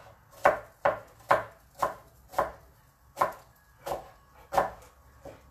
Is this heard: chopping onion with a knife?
yes